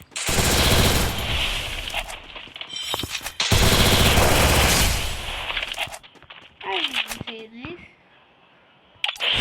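Sustained bursts of automatic Groza rifle fire from a shooter video game, loud and dense, separated by brief pauses, with game effects such as a rising and falling tone near the end.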